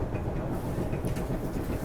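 A subway train on the first run of the day rolls along with a steady low rumble and rattle, a continuous loud ride noise filling the whole stretch with no voices.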